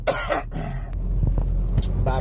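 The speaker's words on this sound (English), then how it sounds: "I can't even fucking talk without coughing" A person coughs several times in short, rough bursts, close and fairly loud, with talk and throat noise mixed in.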